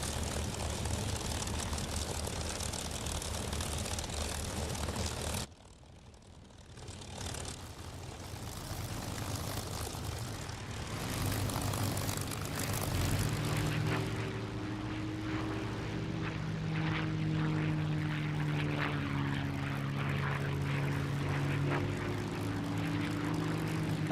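Several P-51D propeller warplanes in the DCS flight simulator run up and take off together, a loud continuous engine roar with a brief dip before rising propeller drone and shifting engine tones.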